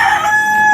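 A rooster crows close by, one loud, sustained cock-a-doodle-doo lasting under a second, with no talking over it.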